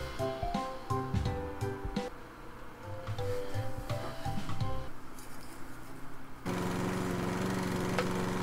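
A lawn mower engine in the video game Lawnmower Game drones steadily for several seconds, with clattering, shifting tones layered over it and a louder, more even roar toward the end.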